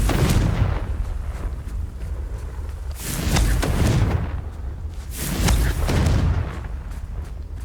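Blasting spell explosions in Hogwarts Legacy, a string of heavy booms swelling in roughly three waves, deep rumbling blasts with crackling debris trailing between them, loud and close.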